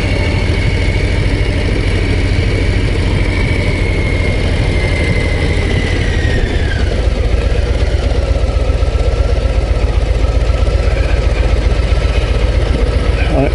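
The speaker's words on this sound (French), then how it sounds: "Là, j'y vais au frein moteur parce qu'il y a encore des épingles un peu plus bas." Motorcycle engine braking on a downhill mountain road with hairpin bends near the La Chambotte lookout: a loud, continuous low engine drone whose pitch drops partway through and then settles into a steady rumble.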